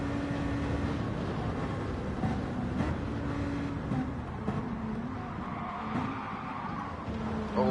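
A race car skidding in a sim racing game on the Nürburgring Nordschleife, a broad roar of engine and tire scrub lasting several seconds with a brief rising squeal near the end.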